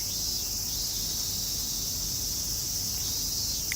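Dense, steady insect buzzing fills a summer night, a continuous high shrill of chirping cicadas that stays even and close throughout with no voices.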